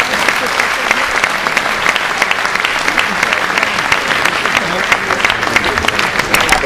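Loud, continuous clapping from an Italian crowd at a political gathering fills the space, many hands beating evenly and close by, with scattered voices under the applause.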